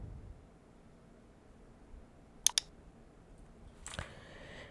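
Two sharp mouse clicks close together while setting up a multi-platform stream in Streamlabs, followed a moment later by a softer click and faint rustle against near silence.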